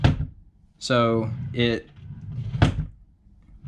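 An IKEA drawer on a small plastic wheel slides along its track and slams shut with dull, close thumps, with someone talking briefly in between.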